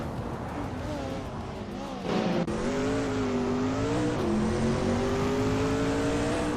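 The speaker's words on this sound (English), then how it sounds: "Wolf of Aco is driving a 1995 BMW M3 GTR Evo Double" A 1995 BMW M3 GTR race car engine in a racing video game drones at high revs with smooth pitch changes and a brief shift dip, loud and continuous, with a voice talking over it.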